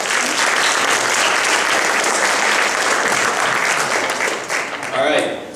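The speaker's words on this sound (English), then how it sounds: "so another round of applause to her" Sustained applause fills a volleyball banquet hall, loud and steady for several seconds before tapering slightly near the end.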